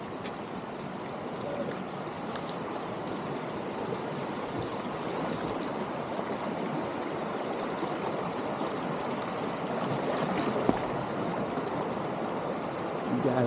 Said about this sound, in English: You guys have seen this river before.